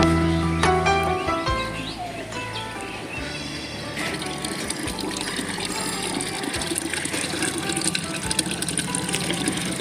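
Washed clothes being rinsed by hand in water, with steady splashing and running water continuing close by throughout, plus occasional clunks and sloshes as the cloth is handled.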